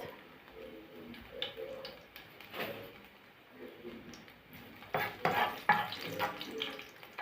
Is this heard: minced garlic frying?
yes